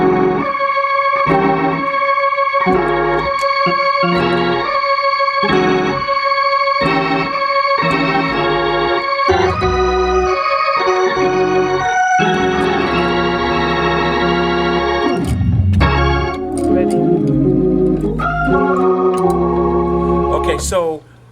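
Hammond organ holding a sustained root note in a church service setting, a full, steady organ tone with shifting chords layered above, loud and continuous alone for about twenty seconds before cutting off.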